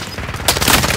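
Gunfire in Call of Duty Modern Warfare on Rebirth Island: a low rumble of shots builds into a loud, dense burst of booming fire in the second half.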